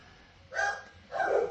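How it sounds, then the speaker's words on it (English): Dogs bark indoors in two loud bursts, one near 0.5 seconds and another near 1.1 seconds, each lasting about half a second, with quiet room tone in between. "I don't know what is with my dogs today."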